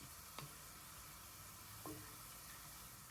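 Quiet, steady sizzling of garlic or shallots frying crisp in oil, with two brief scraping stirs breaking the hiss.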